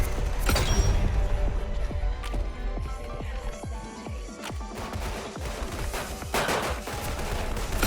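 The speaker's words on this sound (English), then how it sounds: "The reload's a little long." Weapon reloading in the Roblox shooter Weird Gun Game: a long sequence of mechanical clicks and clacks at a steady rhythm, with a few louder sharp bursts near the start and end.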